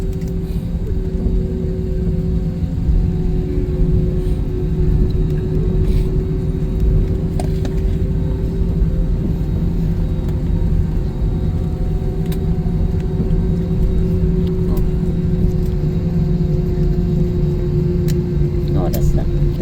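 A Philippine Airlines A321 touches down and rolls out in Singapore. A loud, steady cabin rumble with a constant engine drone fills the whole stretch, and voices talk over it.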